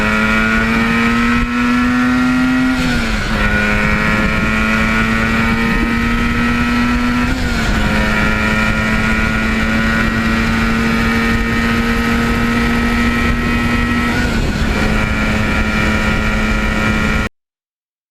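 1977 Yamaha RD400 two-stroke motorcycle run through the gears at wide open throttle, a loud, close, buzzing engine whine climbing in pitch and dropping at each of several shifts, sustained throughout.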